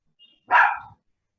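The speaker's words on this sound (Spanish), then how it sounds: "Si no, cada vez que yo hable, el perro me contesta." A single short, sharp dog bark rings out nearby, clear and isolated against near silence, preceded by a faint brief sound.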